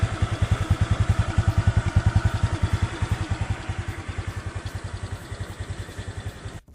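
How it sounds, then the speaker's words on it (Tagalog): A freshly overhauled Honda Click 125i scooter engine, rebuilt after overheating, idles close by with a fast, even, smooth putter that runs steadily and then cuts off abruptly at the end. "Ayun, tahimik ang makina."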